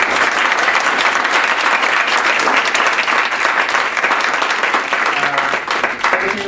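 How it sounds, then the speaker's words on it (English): Dense, sustained applause from a large audience at an aviation talk fills the whole stretch, steady and loud with no pauses, ending the session. "if you'd please join me in giving a round of applause to our speakers today"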